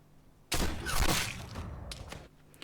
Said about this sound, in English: as you can hear, the sound of the shotgun just sounds wrong